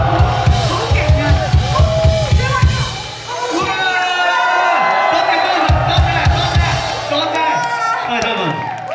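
An audience at an MC speech for a music event cheers, whoops and applauds in a lively burst, rising and falling around loud talking from the stage and shouting voices.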